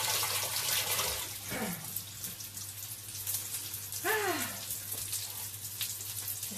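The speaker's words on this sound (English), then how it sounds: "Let me wash my chopsticks off for a second." A tap runs steadily while chopsticks are rinsed under it, with faint clinks and splashes over the flowing water, fairly quiet and with no voices.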